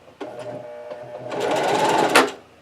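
Close and loud, a sewing machine backstitches in reverse to tie off a seam, giving a brief rapid mechanical whir that speeds up and then stops abruptly, with no talking.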